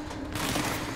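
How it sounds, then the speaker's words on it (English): Enemy gunfire in the video game Control: a brief burst of rapid shots crackles at moderate loudness over a steady background hum, with no talking. "Wait, who's shooting at me?"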